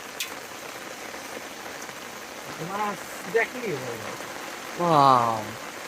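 Heavy rain falls steadily and loudly on surfaces in a rural village, a dense hiss throughout while someone speaks over it in short phrases.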